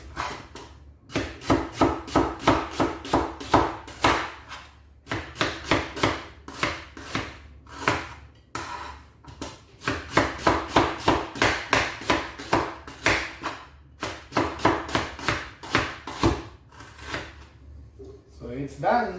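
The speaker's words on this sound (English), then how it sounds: "I'm going to just slice it, the onions." Onions being sliced with a knife on a board in a village kitchen, a steady run of quick, close, sharp chopping taps in rhythmic bursts with short pauses between them.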